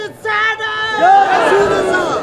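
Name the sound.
crowd chanting response to Naara-e-Takbeer slogan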